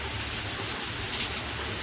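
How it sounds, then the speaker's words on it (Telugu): Steady rain hisses evenly throughout, a dense broadband wash with a couple of slightly louder drops or splashes, no voices. "ఇప్పుడైతే మాత్రం చాలా ఎక్కువ వస్తుంది వర్షం"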